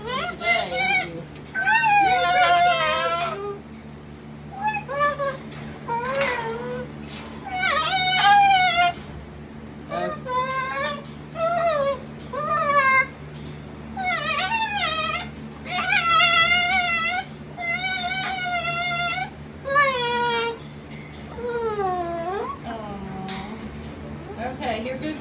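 A cockatoo calls loudly and repeatedly indoors, harsh screeching bursts with rising and falling pitch filling most of the span, with short pauses between calls.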